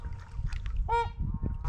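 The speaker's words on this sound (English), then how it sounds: "Pretty sure these are the trumpeter swans." A trumpeter swan at a bird sanctuary gives one clear, nasal, horn-like honk, close by, amid low background rustle and a faint murmur of other birds.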